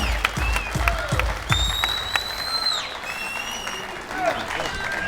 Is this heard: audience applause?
yes